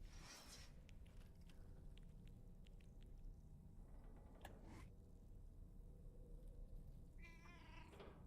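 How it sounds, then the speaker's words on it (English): A tar-creature cat in the video game Death Stranding 2 meows, with short meows at the start and again near the end over steady, low game ambience. "It's Kitty! Look at Cat."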